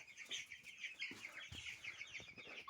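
Cobb 500 broiler chickens in a poultry house cluck and chirp continuously at close range, a busy overlapping chatter from many birds with occasional louder calls.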